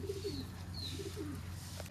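Small domestic pigeons in a home loft, giving soft, low coos that repeat quietly against a steady background hum.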